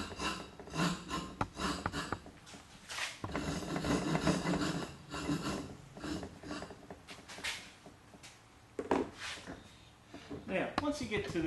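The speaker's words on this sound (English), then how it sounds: "you need to use the back side of the rasp, which is the rounded side" A rasp files a carved wooden spoon in steady back-and-forth rubbing strokes, close and dry, while a person explains the work over the scraping.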